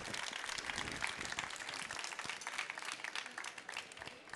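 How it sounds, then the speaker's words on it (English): Conference audience applauding speakers at the close of a Race to Zero session at ChangeNOW 2022, a steady wash of many hands clapping throughout, moderately loud and continuous. "I think a round of applause for Sally and for the rest of our speakers today."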